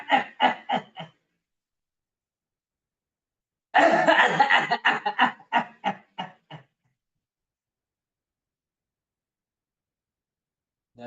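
Two bursts of harsh, repeated deliberate coughing during a yoga breathing exercise, a short cluster first and a longer run a few seconds later, with silence between.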